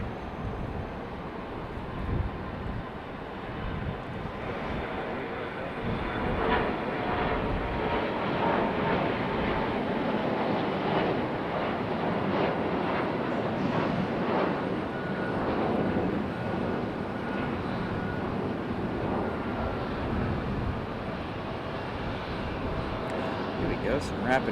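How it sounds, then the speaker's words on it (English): Delta jet airliners departing back to back at Raleigh-Durham International, a broad sustained engine roar that holds steady across the whole stretch with some wind buffeting, fairly loud and unbroken. "Some rapid fire departure action. A couple of deltas right back to back."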